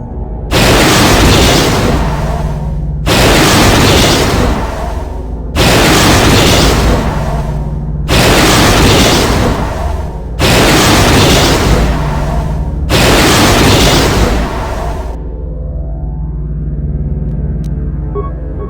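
The Star Forge space station exploding in Star Wars: Knights of the Old Republic, heard as six loud, sustained rumbling blasts of about two seconds each, separated by brief gaps, then a quieter fading rumble.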